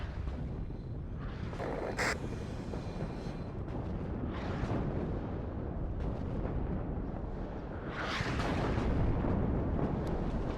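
Units firing in the WARNO strategy video game during an assault on a stronghold at Kassel, a series of heavy booms and blasts at irregular intervals over a dense rumbling battlefield background, with a sharp burst near the start and a louder swell toward the end.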